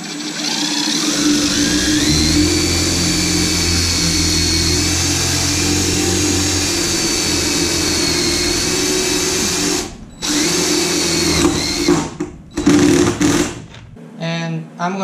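A power drill drives Teks self-tapping wood-to-metal screws through wood framing into a bus's metal wall, a loud steady whir that stops briefly, then resumes in short bursts as each screw seats.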